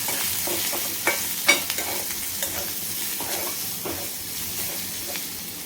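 Homemade red chilli masala, turmeric and garam masala are stirred into hot oil, making a steady sizzle broken by several sharp scraping and tapping strokes of a spoon; no voices.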